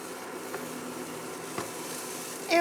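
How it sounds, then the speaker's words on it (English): Food sizzles steadily in a pan on the stove while bibimbap is cooked, a constant close hiss with a short clatter of utensils near the end. "I really love the sizzling sound when cooking stuff on the stove."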